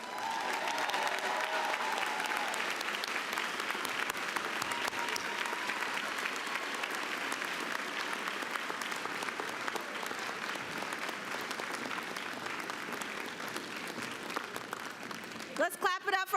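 A large audience at a university education college graduation ceremony applauds the mayor of Philadelphia, steady dense clapping sustained throughout with some cheering mixed in near the start.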